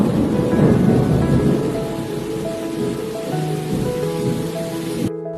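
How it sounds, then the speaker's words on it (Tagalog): Heavy rain pours steadily at night while low thunder rumbles through, ending abruptly into silence. "Ang lakas ng ulan kagabi. Oo nga, naririnig ko ang kulog kagabi."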